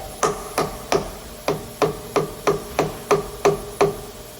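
A steady series of about ten sharp metallic taps rings out as an aluminum plate is knocked into position for clamping on a Hurco VM20i CNC mill, close and evenly spaced with no talking.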